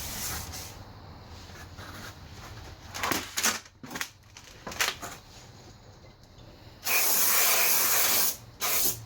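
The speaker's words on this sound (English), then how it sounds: "It's recommended to clean the new rotor with brake parts cleaner spray." Short hissing bursts from a brake parts cleaner aerosol can on a new Porsche Cayman brake rotor, then a long sustained spray lasting about two seconds, close and loud, amid light handling noises.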